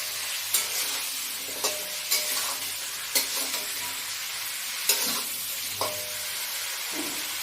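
Spices with salt and turmeric sizzle in a pan for a fish curry with brinjal, a steady frying hiss broken by regular scraping strokes of a spatula, close and fairly loud.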